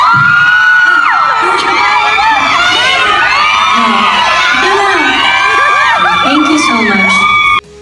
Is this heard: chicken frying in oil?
no